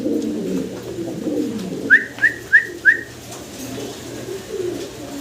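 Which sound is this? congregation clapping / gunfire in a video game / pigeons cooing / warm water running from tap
pigeons cooing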